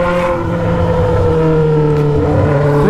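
A Honda Hornet motorcycle with an Atalla 3-inch 4x1 straight exhaust revs up close and loud, its deep engine drone holding steady and rising slightly over a few seconds with no talking.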